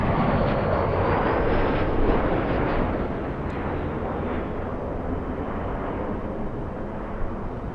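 A Skywest Embraer E175 airliner arriving at Los Angeles airport, its jet roar loud and broad at first, then slowly easing into a steady wash of engine noise heard close and alone.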